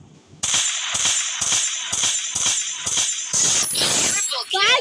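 Rapid gunfire in the game Free Fire comes in regular bursts of shots, loud and close, with an excited voice talking over the action.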